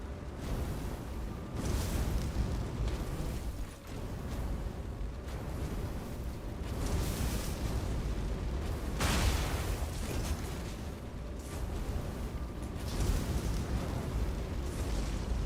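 Video game fire explosion effects sound as a continuous series of loud, roaring bursts and booms, repeating in waves with crackling fiery rumble throughout.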